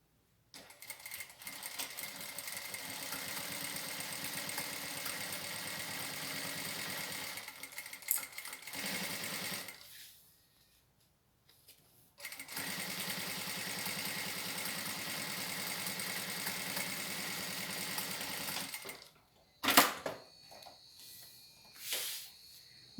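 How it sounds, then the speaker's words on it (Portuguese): A sewing machine stitches fabric for an emoji-themed toilet paper holder in two long steady runs of fast mechanical whirring, separated by a short quiet pause, then a few clicks and handling noises at the end. "Se você tem a máquina que desloca a agulha, você também pode deslocar a agulha."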